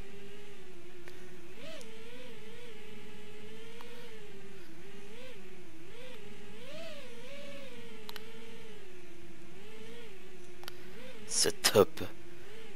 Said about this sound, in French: La touche entrée, je démarre les moteurs et c'est parti.